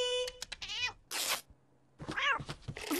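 Several cats meowing at treat time indoors, a string of close, bright, wavering meows, some overlapping, separated by short quiet pauses.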